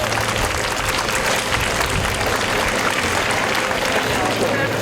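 A crowd at a country fair and exhibition in Palamuse claps loudly and close, dense continuous applause with voices mixed in.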